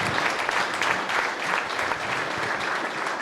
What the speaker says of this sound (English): And because of that round of applause,